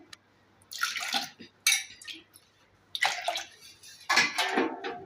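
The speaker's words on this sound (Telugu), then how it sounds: "కందిపప్పు కడుక్కొని దానికి సరిపడా నీళ్ళు పోసుకొని" Toor dal being rinsed and water poured over it for mango sambar, heard as several splashy bursts of running and sloshing water in separate pulses, close and fairly loud, with no talking.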